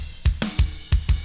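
Half-time punk rock drum groove from a DIY punk rock MIDI pack, with heavy kick and snare hits landing in a steady slow-feel rhythm, close and punchy, with no talking.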